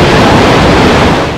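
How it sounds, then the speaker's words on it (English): Niagara Falls heard from aboard the Maid of the Mist boat: a loud, continuous roar of falling water with wind buffeting the microphone, steady throughout. "Hear and feel the sheer power of the falling water,"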